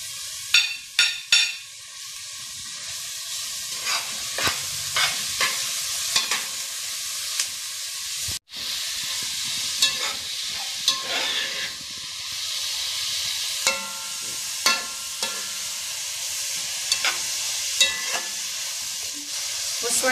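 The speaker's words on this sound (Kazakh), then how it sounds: "Осылайша сәбізді 2 минуттай қуырып аламыз." Grated carrot frying in a pan hisses steadily and loudly throughout, broken by repeated scraping stirs and a few sharp utensil knocks near the start.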